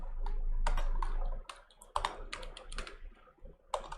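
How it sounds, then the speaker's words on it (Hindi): Typing on a computer keyboard while entering an accounting ledger name in Tally software: a close burst of quick plastic key clicks, irregular in rhythm, with pauses between short runs of keystrokes. "तो यहाँ पर मैं टाइप करता हूँ जैसे परचेज"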